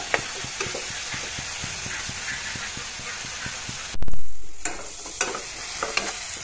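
Potatoes fry in a pan, a loud close sizzle with rhythmic spoon taps, briefly interrupted by a sharp burst and surge of hissing before the frying settles again.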